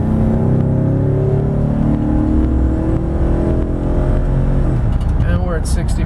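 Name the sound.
2011 Chevrolet Silverado 1500 LTZ accelerating from stop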